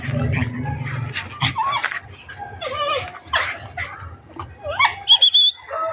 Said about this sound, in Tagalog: Ayan yung aso natin.